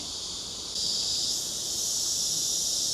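Insects on Île Royale, a tropical island off French Guiana, make a steady, dense high-pitched buzzing chorus that fills the air continuously and swells slightly partway through, with no voices.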